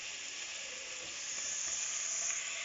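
Pap boils in a pot during South African home cooking, giving a steady, close bubbling hiss that swells slightly toward the end, with no one talking.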